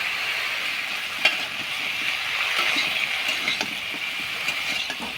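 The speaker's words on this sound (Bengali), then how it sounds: "তো এইভাবে হালকা ভেজে নেব সবজিটাকে" Bottle gourd stems frying in a pan over a coal stove, a loud continuous sizzle with scattered sharp scrapes and clicks of stirring throughout.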